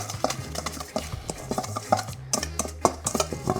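A spice mix of salt, turmeric and smoked paprika being stirred in a small bowl, with rapid, rhythmic clinks and scrapes of a spoon, close and clear, with no talking.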